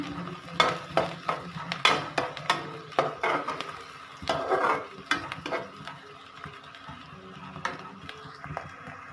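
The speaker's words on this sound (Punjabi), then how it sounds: "ਆਪਾਂ ਇਸ ਨੂੰ ਹਿਲਾਉਂਦੇ ਰਵਾਂਗੇ ਜੀ" A spoon stirs a pan of potato and eggplant sabzi with browning onion, making repeated close clinks and scrapes against the metal over a soft sizzle, in an uneven rhythm.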